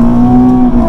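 A Nissan 370Z with an automatic gearbox drives under steady acceleration, its engine droning loud and close in a constant tone with a slight dip near the end.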